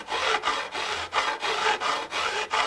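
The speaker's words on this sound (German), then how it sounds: "die Flanken der Bünde werden schräg geschliffen" Electric guitar fret edges being filed at an angle after clipping, a steady back-and-forth rasping in about eight even strokes, close and fairly loud with no talking.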